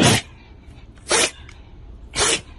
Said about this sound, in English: Oh, now we got sneezing dogs.